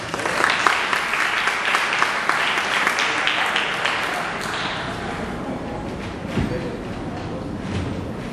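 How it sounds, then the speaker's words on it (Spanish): An audience at a university lecture on Afro-descendants in the Independence claps steadily for the speaker Óscar Maturana, a dense sustained round of applause that thins gradually toward the end. "Los dejo en la grata compañía del maestro Óscar Maturana, Afrodescendientes en la Independencia, para quien pido un aplauso"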